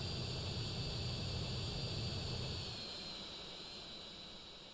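An airplane engine drones steadily in the video game GTA San Andreas, a loud, constant whine and roar that slowly fades slightly toward the end, with no voices.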